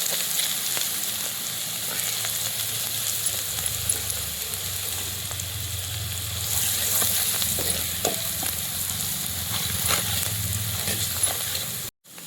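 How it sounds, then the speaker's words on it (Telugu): Crushed garlic and red chili paste frying in hot oil for an okra fry, a continuous close sizzle with scattered crackles and spatters and occasional stirring scrapes, with no talk. "వేపుడుకు సరిపోయేంత నూనె పెట్టుకొని ఇప్పుడు దంచుకున్న ఎల్లిపాయ కారాన్ని ఇందులో వేసుకోవాలి"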